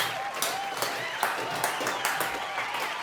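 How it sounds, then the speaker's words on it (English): A small class claps at a staged sitcom award moment, sustained scattered applause with a few sharper claps standing out, while a voice speaks faintly beneath it. "Better round of applause than that, class."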